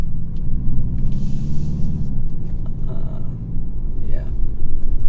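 A BMW G20 sedan drives around with a steady low engine hum and road rumble, an engine note that drops partway through, and someone talking over the noise.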